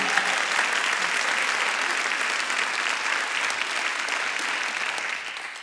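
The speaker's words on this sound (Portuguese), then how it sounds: "um aplauso para vocês" A concert crowd at a live show in Portugal gives sustained, full applause, a thick even wash of clapping that stays loud for several seconds and eases slightly at the end.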